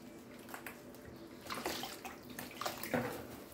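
Hot meat broth poured over rolled rice paper sheets in a baking tray: a continuous close liquid splash and trickle that builds in the second half, with no voices.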